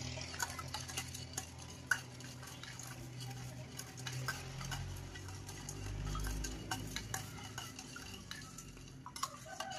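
A spoon stirs sugar candy powder into banana stem juice in a vessel, giving soft, quiet scraping and occasional light clinks against the container over a low, steady background.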